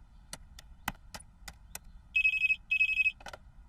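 Cartoon telephone ringing in two clear electronic trill bursts, preceded by a series of sharp clicking taps, in a Hindi-dubbed Boboiboy animated episode.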